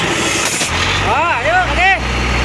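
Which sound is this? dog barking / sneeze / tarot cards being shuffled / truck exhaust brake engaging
truck exhaust brake engaging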